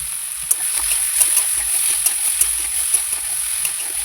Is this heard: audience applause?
no